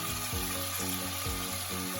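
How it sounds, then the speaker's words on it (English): Beef stew meat is stirred in a pan with cooked garlic and onion, producing a steady, close frying sizzle with soft scraping strokes recurring in a slow rhythm. "And we'll continue to stir so that it won't stick on the pan and burn."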